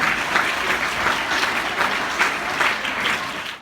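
A school audience at an Urdu school student election event applauds loudly, steady dense clapping that holds strong for several seconds before cutting off at the end.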